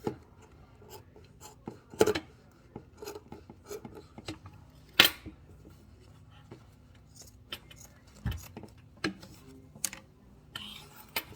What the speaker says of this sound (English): Go ahead and cut your excess facing off.